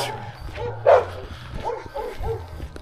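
Several dogs in Horgoš, Serbia, near the Hungarian border crossing, give a few short barks and yips, one louder nearby bark standing out against outdoor background noise.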